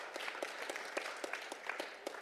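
Audience applause at the Berlin conference on shaping the future, a steady wash of many hands clapping with sharp individual claps poking through, fairly distant and even across the whole stretch, no voices on top.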